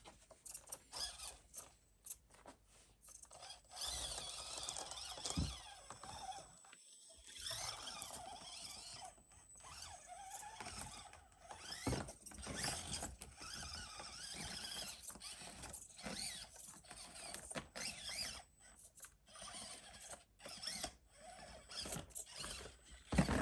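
Axial SCX24 Bronco RC crawler with upgrades driving an indoor course, a faint whirring motor and servo whine with squeals and small mechanical clicks, rising and falling in short bursts.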